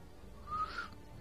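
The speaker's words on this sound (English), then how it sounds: "I've totally not whistled in forever." A person whistles with a dry mouth, giving one brief, faint, breathy whistle that rises and falls over quiet background.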